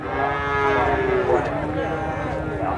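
A Simmental calf in a cattle market moos in a long, loud, drawn-out call close by, with other cattle lowing in the background across the whole stretch.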